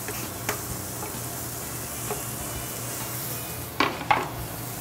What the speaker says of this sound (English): We're gonna put it into our hot oil here. You hear that nice sizzle.